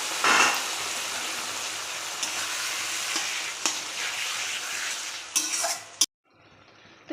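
Flat beans, eggplant and tomato with shrimp stir-frying in a pan, a dense, close sizzle with scraping and stirring clatter throughout, cutting off abruptly near the end.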